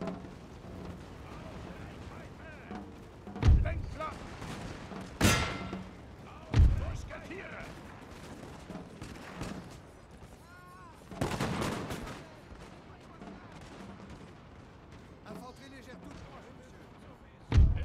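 Musket volleys ring out in a Napoleon: Total War Prussia campaign battle, several loud booming bursts spaced across a noisy battlefield din, with people talking throughout.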